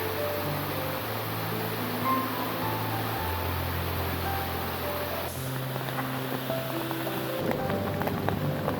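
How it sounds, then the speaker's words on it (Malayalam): Heavy rain hisses down in a steady, dense wash over several seconds, with low sustained humming tones running beneath it and no voices. "നല്ല മഴ പെയ്യുന്നതുകൊണ്ട് എല്ലാ നീർച്ചാലുകളും ഓണാണ്."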